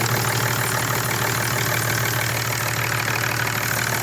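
A Mercedes OM648 diesel engine idles steadily after an injector tie-down upgrade and seal replacement, a loud, even mechanical clatter running continuously with no talk.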